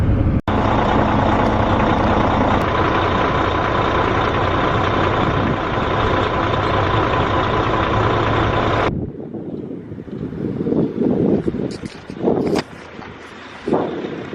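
A farm truck stuck in mud idles steadily nearby on a rainy harvest day, a continuous droning engine with a tonal whine. The engine cuts out partway through, leaving quieter wind and scattered handling noises.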